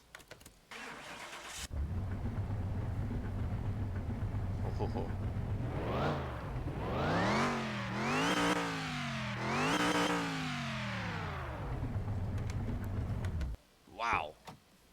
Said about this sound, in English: Let's start it up once and hear what it sounds like.